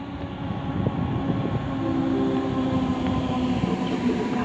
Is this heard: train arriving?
yes